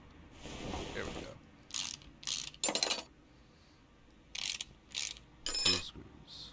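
Ratchet wrench loosening screws in Car Mechanic Simulator 18, several quick clicking bursts in a row with short gaps, loud and close, over a faint background hum.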